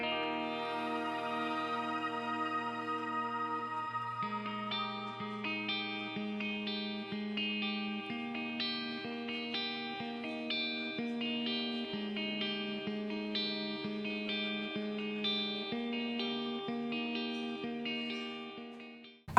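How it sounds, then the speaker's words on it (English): An electric guitar plays a clean tone, duplicated and drenched in a giant plate reverb, in a cruise ship guitarist's rig; sustained chords and melodic notes ring out in a wide, lush ambient wash, alone without talk. "For this guitar tone, it's basically just my clean tone duplicated, but I've added a giant plate reverb."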